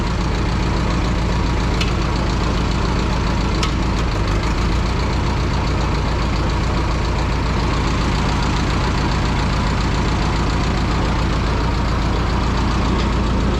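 The small Continental four-cylinder engine of an Oliver 440 tractor idles smoothly and loudly up close, a steady low throbbing chug that holds an even rhythm throughout.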